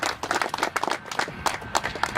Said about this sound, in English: let's give the ambassadors a round of applause